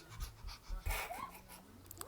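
Children imitating a panting dog, producing quick breathy huffs in short bursts, faint and close.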